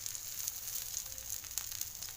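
Tomatoes hit a pan of hot oil with onions and green chilli, sending up a bright, steady sizzle heard close by, with small crackles and pops all through and no voices.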